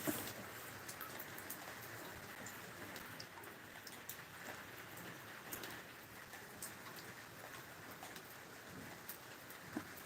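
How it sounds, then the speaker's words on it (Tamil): Steady rain patters continuously at low volume, with occasional soft drips and faint bird coos in the background. "எங்கள் ஊரில் மழை பெய்யுது பார்த்தீங்களா?"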